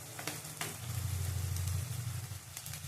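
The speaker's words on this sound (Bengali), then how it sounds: "আদা বাটা দেবো, আদা বাটা দিলাম এক চামচ।" A spoonful of ginger paste goes into masala sizzling in a pan over lowered heat while kabuli chickpeas cook, giving a steady close sizzle over a low hum with a couple of light clicks near the start.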